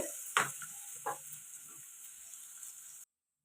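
Dry fish curry made with kanagantalu dried fish sizzles steadily in a hot pan while a spoon stirs it in two short scraping bursts near the start, then the frying hiss carries on alone before cutting off.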